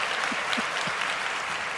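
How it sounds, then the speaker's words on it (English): A short burst of applause, dense steady clapping at an even level, with no voices over it. "deserves a round of applause"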